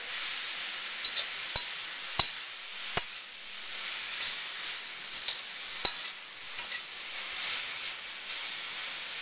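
Minced shrimp and vegetables for house special lo mein stir-frying in a hot pan, a steady soft sizzle with scattered sharp clinks and scrapes of a utensil against the pan, fairly quiet and without talk.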